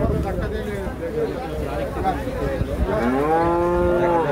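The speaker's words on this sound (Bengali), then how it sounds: "তো আসছে একটি গরু।" A cow moos at the Hozrotpur cattle market, one long drawn-out bellow rising near the end, fairly close amid a murmuring crowd and people talking nearby.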